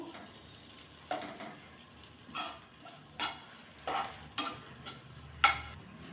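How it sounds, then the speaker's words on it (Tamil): Dal and spinach stuffing for puris being stirred in a pan: a soft sizzle under a steady run of scraping spoon strokes that come roughly once a second, close and fairly quiet, with no voices. "சேர்த்து நல்லா இதை ஒரு ரெண்டு நிமிஷத்துக்கு நல்லா அதை கலந்து விடணும்"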